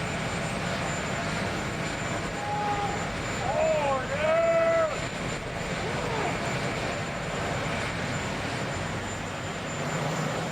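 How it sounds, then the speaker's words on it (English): The Marine One presidential helicopter's engine drones steadily overhead in Washington, a continuous whirring hum that swells slightly midway and then holds at an even level. "The helicopter, no longer designated Marine One, took the former president on a final aerial tour of Washington."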